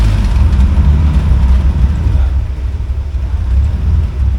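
A 1986 Nissan 300ZX engine with a carburetor and non-working turbocharger settles into a steady idle, a loud, continuous low rumble that holds even throughout with no talking.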